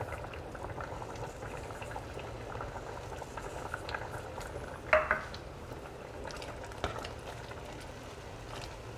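A pot of lentil stew simmers at a steady boil, its bubbling a continuous low burble that fills the background, broken by a couple of brief clinks of a utensil or pot partway through. No one speaks.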